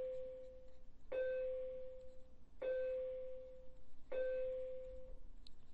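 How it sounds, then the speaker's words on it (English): A bell rings three times at steady intervals, each a clear ding that fades, fairly faint in a quiet room with no talk over it. "Pardon the bell."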